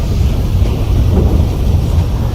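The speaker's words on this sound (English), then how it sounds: "Ooh, the sounds of the thunder as well." Low, steady thunder rumble from a rainstorm in GTA 5 running graphics mods, a continuous loud roll with windy, rainy texture and no distinct single crack.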